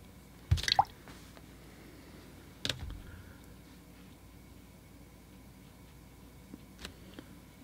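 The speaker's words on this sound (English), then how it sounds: "And again, some more splashing." Water splashed onto a watercolor still life painting, heard as a few brief wet drips and squishes spaced apart, quiet and close with no talking.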